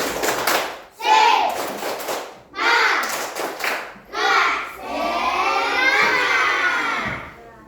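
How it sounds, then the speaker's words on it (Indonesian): Students in an Indonesian teacher-training classroom give a spirit clap: several loud bursts of rhythmic group clapping separated by short pauses, ending in a longer, sustained stretch of collective clapping and cheering voices. "Berikan semuanya tepuk semangat"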